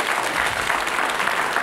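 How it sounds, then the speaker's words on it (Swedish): Short burst of applause from a studio audience on a Swedish TV quiz show, steady dense clapping filling the whole moment with no voices over it. "Jag ber att få utlösa en kort applåd"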